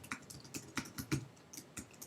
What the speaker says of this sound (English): So I can type something like hello world.